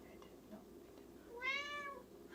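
A cat lets out a single clear, drawn-out meow close by, following faint quiet background noises.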